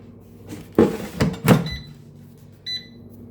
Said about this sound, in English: I'm going to open up the drawer here. Toss these in.